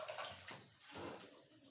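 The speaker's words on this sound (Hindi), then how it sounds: "पानी थोड़ा सा डालेंगे।" A small amount of water is poured into a bowl holding cracked eggs while making dough for egg paratha, giving a short, quiet splash and trickle that fades out.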